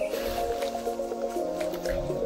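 Wet soil being worked and thinned with added water makes a steady, close squelching and squishing with small drips, continuous for a couple of seconds.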